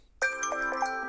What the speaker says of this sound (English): Ooh, there's a new timer sound.